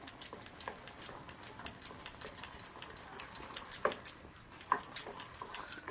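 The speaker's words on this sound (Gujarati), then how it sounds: "લોટને સરસ મજાનો આવી રીતે મિક્સ કરી દેવાનો છે." Gram flour dough for gatte gets stirred in a pan over low heat, producing faint, irregular scraping and ticking of a utensil against the metal, with soft clicks spaced unevenly and no talk.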